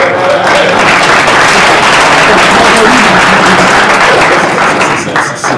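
Loud, dense audience applause at a tech conference talk on Kubernetes, a sustained wash of many hands clapping close and steady for several seconds before tapering slightly at the end.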